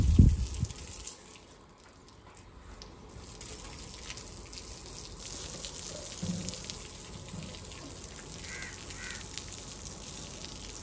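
Water running from a tap at a village home, a steady soft hiss of flow through the whole stretch, with a brief knock at the start and crows cawing faintly in the background.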